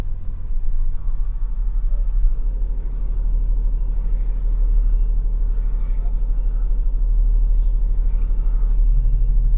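Heavy, steady low rumble of a truck engine idling and creeping while being backed into a warehouse loading dock, continuous and close throughout, with faint hiss and clatter above and a voice talking at times.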